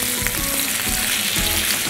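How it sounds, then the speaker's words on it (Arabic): Vegetables for an Egyptian moussaka fry in a pan while being stirred, a loud steady sizzle with repeated scraping strokes of the spoon running throughout, no voices. "نقلب ده كله مع بعض"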